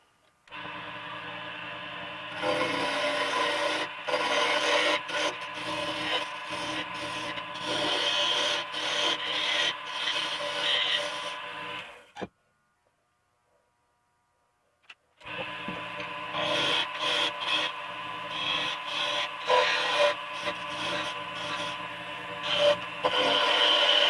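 Wood spinning on a lathe while its end is rounded off for a split jam chuck, giving a steady, dense scraping rasp that runs for about ten seconds, pauses briefly, then resumes just as loud.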